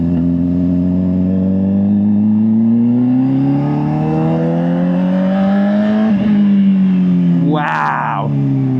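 A Honda CBR600RR motorcycle engine drones loud and close while riding, its pitch climbing steadily through a gear before a brief shift, with a short burst of noise near the end.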